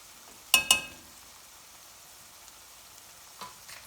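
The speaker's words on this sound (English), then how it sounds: "with my curries we say always make sure you cook the spice well" Chili powder and spices fry in oil for a chicken pepper curry: two sharp utensil clicks open onto a soft, steady sizzle, with a faint stir near the end.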